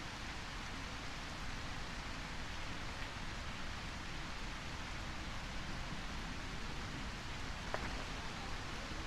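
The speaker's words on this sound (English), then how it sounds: "The rain helps" Steady, soft rain falling continuously, an even hiss with no distinct drops standing out and no voices.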